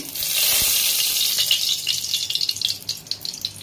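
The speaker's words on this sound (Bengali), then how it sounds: "কড়াইতে প্রথমে আমি তেল দিয়ে দিচ্ছি।" Hot oil hisses steadily in a pan, a bright crackling sizzle that swells then breaks into sputtering pops toward the end.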